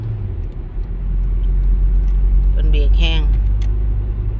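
Cars idle and creep in an after-work traffic jam, a deep, steady engine rumble filling the road, with a voice speaking briefly partway through.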